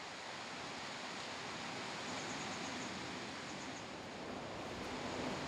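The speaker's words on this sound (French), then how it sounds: "C'est la rivière elle-même." A mountain torrent rushes through the deep Verdon canyon far below, a steady, dense roar of flowing water that holds even and unbroken from start to finish with no voices.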